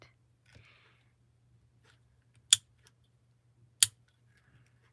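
A small piece of wood cut in a plastic angle-cutting guide for crafts gives two sharp, isolated snips a little over a second apart, close and crisp over a faint low hum, with no talking.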